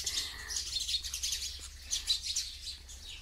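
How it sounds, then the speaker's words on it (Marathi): Small birds chirp and tweet in quick, bright bursts outdoors, the calls fairly close and continuous against a low steady hum, with no talking. "किती हुशार असतात पक्षी, कशी एकमेकांची मदत करतात."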